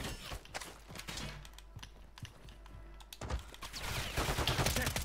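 Bursts of automatic gunfire and rapid shots ring out in a Warzone match, near and loud in clusters, with a dense fusillade toward the end and little talk over it.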